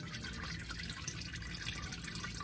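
Engine oil drains from a 2019 Chevrolet Silverado with the 5.3L engine, a steady faint trickling and splashing pour that goes on without a break. No one speaks.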